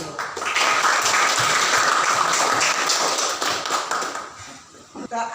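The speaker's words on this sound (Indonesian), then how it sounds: "Kasih tepuk tangan dulu." A classroom of students breaks into sustained, dense clapping for several seconds, then it thins out and trails off, with voices mixed in.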